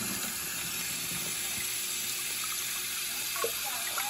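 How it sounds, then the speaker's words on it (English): A kitchen tap runs steadily while a shell is peeled under the stream, producing continuous, even splashing water with a few faint clicks from the peeling. "But it's easier to do it under the running water."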